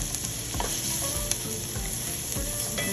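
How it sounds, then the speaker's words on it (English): Onions fry in a pan with red pepper flakes and garlic for a vegetarian bean bake, giving a steady close sizzle broken by a few scraping stirs of a utensil. "I'm going to cook our onions about 3 minutes till they get translucent."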